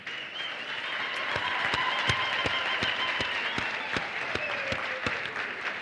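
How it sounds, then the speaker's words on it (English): A large crowd at a university graduation ceremony applauds steadily, a sustained wash of clapping with a few sharper claps standing out near the front. "I'd like you to extend your gratitude and give them a round of applause as well."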